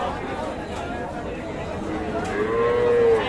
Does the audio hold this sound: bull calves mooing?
yes